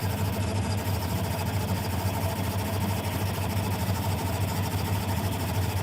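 A steady, loud engine drone with constant vibration runs without pause after being cranked following long disuse, close and unbroken, with no talking.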